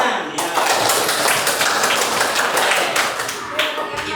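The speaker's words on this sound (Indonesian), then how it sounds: "ya udah tepuk tangan." Children in a classroom clap their hands together during a coding and computational thinking lesson, a dense, steady patter of many small hands close by with voices mixed in.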